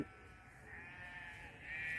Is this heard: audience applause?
no